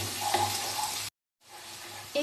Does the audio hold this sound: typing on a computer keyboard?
no